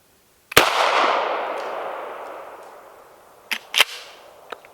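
A single sharp gunshot firing wildlife control ammunition at a target 20 yards away, a crisp crack followed by a long fading echo, then a few faint clicks and knocks afterward.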